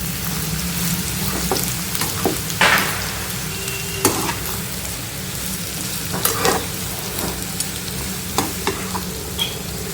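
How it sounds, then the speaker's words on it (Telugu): Onions fry over high flame in a pan until golden brown, giving a dense continuous sizzle with occasional clinks and scrapes of a stirring spoon, close and fairly loud, with no talking. "ఆనియన్స్ మంచి గోల్డెన్ బ్రౌన్ కలర్ వచ్చే వరకు వేయించుకోవాలండి"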